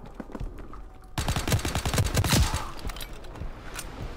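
Rapid bursts of tank-mounted machine gun fire in the Call of Duty WW2 game, a dense, loud rattling volley that starts abruptly about a second in and keeps pounding, tapering slightly toward the end.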